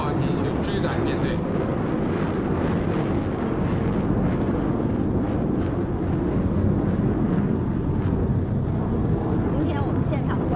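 Military aircraft fly a formation display at the 2022 Zhuhai airshow public day, a dense, continuous roaring rumble with wind buffeting throughout, while a commentator talks over it.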